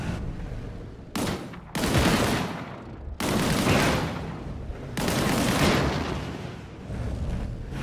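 In the video game Disintegration, gunfire is aimed at a barrel. Loud bursts of rapid shots come in four separate volleys with short gaps between them, close and sustained.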